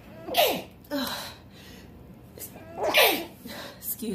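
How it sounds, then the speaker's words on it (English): Two sharp sneezes, close and loud, each with a quick breathy intake before the burst, separated by a short pause. "Excuse me, I had to sneeze."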